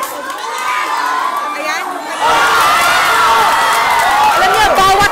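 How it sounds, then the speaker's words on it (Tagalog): A family shouts and cheers loudly at home while watching an Olympic women's boxing bout in Tokyo, the noisy crowd of voices swelling louder partway through, with children yelling and whoops over the din. "bawat suntok ni Nesty, sigaw yung binibigay itong kanyang pamilya."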